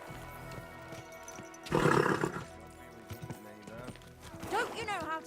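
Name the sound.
horse galloping in the video game Kingdom Come: Deliverance 2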